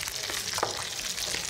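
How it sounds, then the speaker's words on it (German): Chicken breasts fry in olive oil in a pan, a close, steady, crackling sizzle with a few sharper pops, continuous and without talk. "Wir machen jetzt hier die Bouladenbrüste in eine Pfanne mit Olivenöl"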